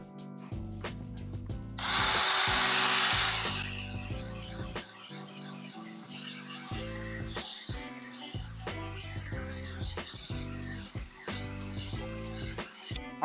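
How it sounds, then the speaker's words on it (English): A drill brush scrubs filthy car carpet during detailing in a loud burst of about two seconds, with steady rhythmic music playing before and after. "we're going with the drill brush."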